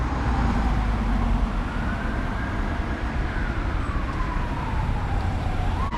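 An ambulance siren wails as it passes through a city street in Romania, a rising and falling tone over heavy traffic noise, fairly loud and continuous with no voices.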